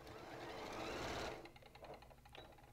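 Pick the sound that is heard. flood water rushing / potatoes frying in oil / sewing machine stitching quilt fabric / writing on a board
sewing machine stitching quilt fabric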